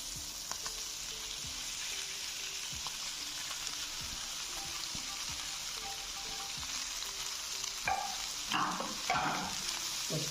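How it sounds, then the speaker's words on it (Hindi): Pasta going into a frying pan with chicken masala and being stirred, a steady close sizzle of frying with soft scraping stir strokes, louder clatter near the end, no talking. "अब इसके अंदर मैं पास्ता डालने लगा हूँ।"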